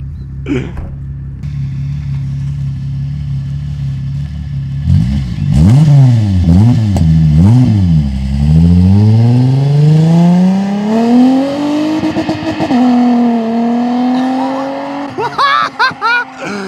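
A car engine idles with a low rumble, then revs repeatedly, pitch surging up and down before climbing in a long sustained rev, loud and close.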